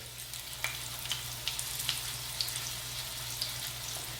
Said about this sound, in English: you can just place this eggplant right here, and because you have to fry them both sides